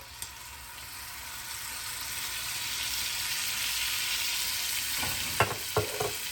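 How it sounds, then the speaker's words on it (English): Cold liquid tomatoes spatter and crackle in hot oil in a pan, a steady broad hiss that builds, then a few sharper pops and clatters near the end, with no talking. "adding the cold liquid tomatoes to the oil is bound to spatter. So in they go"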